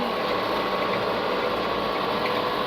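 A tractor spraying a corn field in fifth gear near a 1900 rpm PTO speed drones in a steady, dense mechanical rumble with a faint rattle, unbroken and without talk.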